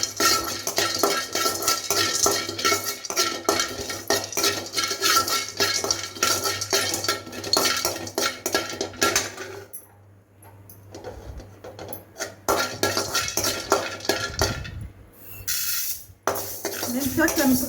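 Turmeric root and fenugreek seeds are dry-roasted in a pan for mango pickle, with a spoon clinking and scraping against the metal in a busy, continuous rattle that briefly quiets midway before resuming.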